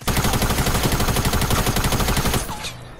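Rapid, loud automatic gunfire from a Fortnite match, a dense continuous burst of shots lasting a few seconds before cutting off into a quieter tail.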